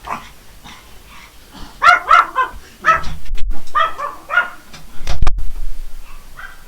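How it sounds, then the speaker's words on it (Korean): A small dog barks and yips indoors in a home room, several sharp close barks in uneven bursts with short whimpering gaps between them. "제 방에 강아지가 한 마리 있어갖고, 제가 요즘 애지중지하는 강아지가 꼭 내 옆에 있으려고 그래요."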